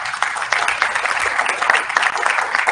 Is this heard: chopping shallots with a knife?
no